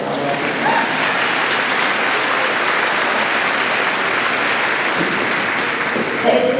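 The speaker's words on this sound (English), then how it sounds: "You can applaud that if you want to." Audience at a high school graduation in Marion, Kentucky applauds in a steady, dense roar of clapping that fills the room for nearly seven seconds, with a few brief louder bursts near the close.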